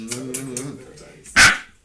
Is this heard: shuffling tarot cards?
no